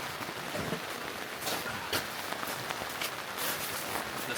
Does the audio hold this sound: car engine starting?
no